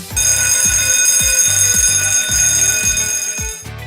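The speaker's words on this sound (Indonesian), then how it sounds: "Jika Anda mendengar alarm berbunyi" A loud electronic emergency alarm in a workplace rings continuously, its piercing tone pulsing in rapid repeated beats, close and steady with no voices.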